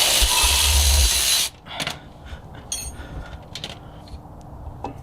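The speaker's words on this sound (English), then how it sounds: "3/8 ratchet. Let's get her going." A 3/8 ratchet loosening a brake caliper bolt on a car, with a loud broadband whir first and then scattered clicks and creaks of the ratchet working, close by.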